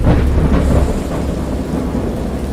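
Deep rolling thunder rumbles loudly, with steady rain hissing throughout, no voices, a continuous stormy roar that eases slightly after the first moment.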